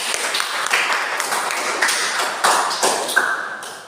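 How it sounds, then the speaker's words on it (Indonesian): An audience claps steadily and densely throughout, bright and close, with no speech over it. "Aplaus untuk kita semua."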